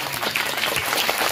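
Audience clapping at a school annual function and prize-giving ceremony, a brief dense burst of applause from a seated crowd, steady and fairly loud, with no speech.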